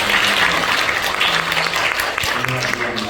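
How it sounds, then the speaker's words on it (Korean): A church congregation applauds at a Sunday worship service, with loud, dense, sustained clapping filling the room and voices mixed in underneath. "박수로 하나님 앞에 영광 올려드리겠습니다."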